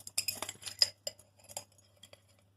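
A metal tablespoon clinks and taps against a cup or dish while being handled, a few quick, close, delicate chimes followed by fainter scattered taps in a quiet room.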